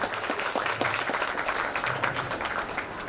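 Crowd applause at a school Vande Mataram celebration in Baliapur, Dhanbad, a continuous dense patter of many hands at moderate level, with some voices underneath.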